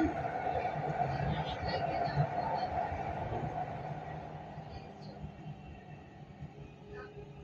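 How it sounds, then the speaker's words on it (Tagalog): A Dubai airport train rumbles steadily from inside the carriage, a low continuous drone with a squealing tone that gradually fades. "Nasa loob ako ng tren."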